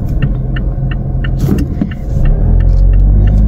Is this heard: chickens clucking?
no